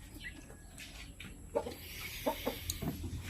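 Farm chickens making soft, scattered clucks and short calls over a quiet background, a few bursts coming in the second half.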